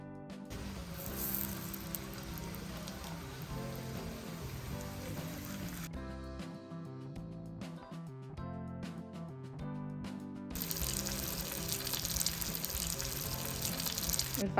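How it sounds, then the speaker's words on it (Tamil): Fish sizzles in oil in a pan for a village-style Tamil meal, a steady hiss that drops out briefly midway and then returns louder, heard without talk. "அதில் தேவையான அளவு எண்ணெய் ஊற்றிட்டு நம்ம ஆல்ரெடி ரெடி பண்ணி வச்சுருக்கிற மீனை போட்டு"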